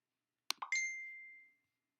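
A phone notification gives a short chime, a quick plop followed by a clear ringing tone that fades out over about a second in an otherwise quiet room.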